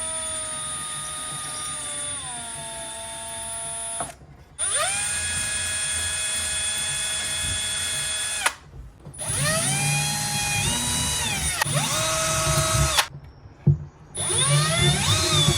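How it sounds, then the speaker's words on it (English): A small high-pitched drill whines steadily in several bursts while drilling leg holes in a dresser, its pitch sagging as the bit bites in, with short silent pauses between passes. "get a small drill bit and just drill those holes out"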